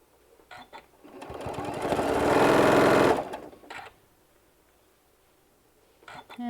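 A sewing machine stitching a bean bag panel runs in one steady whirring burst of about two seconds, building up and then stopping, with brief handling noises before and after.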